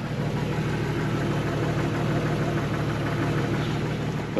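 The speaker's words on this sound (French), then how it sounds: "Au niveau échappement, bon bah, ça va rester discret, hein." A 1994 Jeep Wrangler YJ SE idles with a discreet exhaust, a steady, even mid-low engine drone that carries on without a break throughout.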